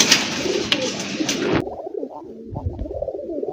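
A large male Rajgolla pigeon coos in low, soft, rolling calls close by, following a brief burst of rustling or flapping noise at the start.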